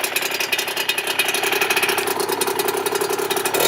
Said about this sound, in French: La moto, franchement, elle tourne nickel.